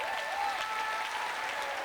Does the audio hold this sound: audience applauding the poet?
yes